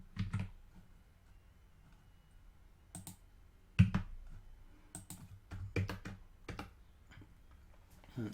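Fast clicks and taps from a computer keyboard come in scattered bursts while someone edits code. The keystrokes are close and crisp, separated by quiet pauses, and no one speaks.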